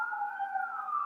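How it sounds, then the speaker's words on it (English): A wailing emergency siren from traffic on a major highway near a stadium carries faintly from a distance, a single sustained sweeping tone with no speech over it. "Yeah, the siren."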